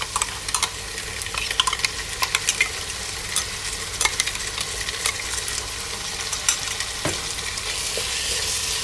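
Ginger garlic paste frying in a pot, a steady crackling sizzle with scattered sharp pops and spatters and a few scraping stirs, close and continuous, no voices.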